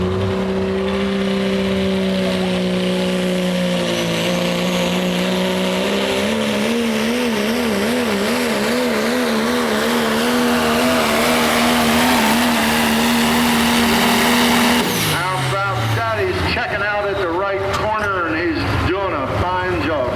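Heavily modified pulling truck at a truck and tractor pull in Boonsboro, its engine roaring loud and sustained as the revs climb and waver, then breaking into a rough sputtering rattle, with an announcer's voice underneath.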